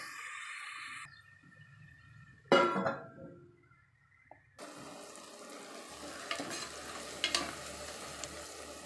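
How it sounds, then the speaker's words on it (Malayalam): Onions frying in a pan for a green bean curry, stirred now and then, with a soft sizzle and scraping strokes. After a quieter stretch, a denser hiss picks up, with a few sharper clinks and scrapes and no voices. "ഇടയ്ക്ക് ഉള്ളി നന്നായിട്ടൊന്ന് ഇളക്കി കൊടുക്കണം കേട്ടോ അടി പിടിക്കാതിരിക്കുക"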